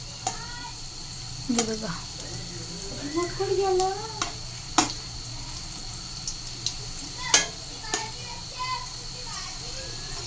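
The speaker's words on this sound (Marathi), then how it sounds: "बघा किती मस्त आणि खरपूस भाजत आहे ना आपली कोथिंबीर वडी" Coriander fritters (kothimbir vadi) shallow-frying in oil in a pan, a low steady sizzle running throughout with faint stirring scrapes, while someone talks and children's voices sound in the background.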